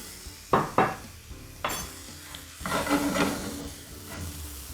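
Vegetable wedges browning in a pan give off a low hiss and sizzle. Sharp clinks of utensils against the cookware break through it, and the sound is close and moderately loud.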